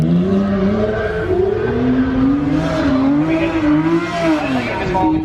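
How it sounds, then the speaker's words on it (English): A Lamborghini LP640 V12 engine fitted with two banks of E46 M3 independent throttle bodies revs loudly nearby, its pitch rising and falling in a continuous harmonic snarl, with no one speaking over it. "big part of that was also the noise that they made with the V12 engine"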